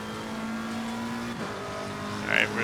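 McLaren 720S GT3 race car in the Assetto Corsa Competizione racing game at Brands Hatch, a steady engine drone with a brief tire squeal near the end, no one talking.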